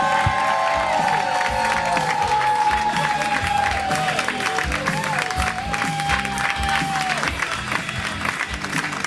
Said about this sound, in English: Please start clapping for Jason Bierfeld.